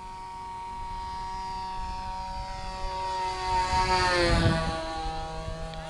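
An AT-6 propeller aircraft flies over an airfield, a steady droning engine tone with harmonics that swells and shifts in pitch as it passes close by, then eases slightly, with no voices.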